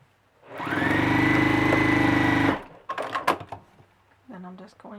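A sewing machine runs steadily for about two seconds, stitching fabric pieces together for an in-the-hoop girl bunny, with a whirring motor and rapid needle hum. Brief clattery handling sounds and short bits of voice follow.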